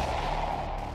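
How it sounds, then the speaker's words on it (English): A muffled explosion sound effect bursts beneath the floor in a horror story setting. It is a dense, sustained rumbling roar that fills the whole second at steady loudness, with no voices. "There is a flash and a muffled explosion beneath their feet."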